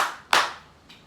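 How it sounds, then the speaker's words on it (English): A couple of sharp hand claps from a small group indoors, one strong clap followed by a fainter one, with a soft fading tail between them. "And I have a round of applause for Evelyn."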